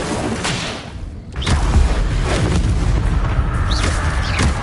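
Incendio fire spell cast in the video game Hogwarts Legacy, heard as heavy, close booming thumps and crackling bursts that build after a brief lull and keep recurring over a dense, rumbling backdrop.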